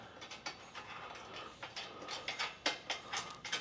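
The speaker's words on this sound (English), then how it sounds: "we'll fasten it all down using the socket wrench" A socket wrench ratchets on a nut while Westin Grate Step nerf bars are bolted onto a 2023 truck. The clicks come in quick, uneven bursts that are close but fairly quiet, with no talking.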